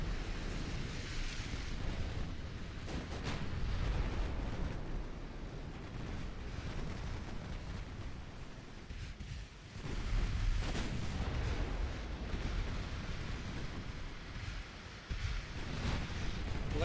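Torpedo hits exploding against warships in the naval strategy game Ultimate Admiral Dreadnoughts, a long rumbling roar of blasts that swell and fade, with a brief dip before another heavy surge.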